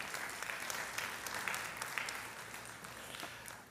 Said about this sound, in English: You can applaud. You can applaud.